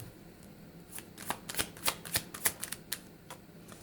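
A Radiant Rider-Waite tarot deck being shuffled close up: a quick series of crisp riffling card bursts, with soft fluttering snaps in an uneven rhythm and no talk over them.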